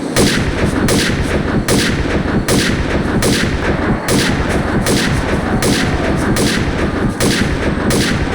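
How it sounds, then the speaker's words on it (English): Shotgun blasts fired in Doom II, Biodust map, boom over and over in a loud, dense barrage, about one sharp blast every second against a constant roaring background. "not tough enough for my shotgun"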